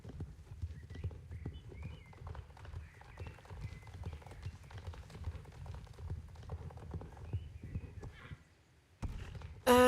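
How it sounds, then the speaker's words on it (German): Hooves clip-clop in a steady rhythm from a horse in the Star Stable Online game, with a whinny near the end, heard up close and clear throughout. "Er ist so ein schönes Pferd."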